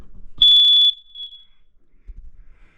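A smoke detector being tested gives one loud, shrill beep, a rapid pulsing tone lasting about half a second, followed by a short fading ring and quiet room noise.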